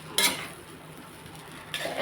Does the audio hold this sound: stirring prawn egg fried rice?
yes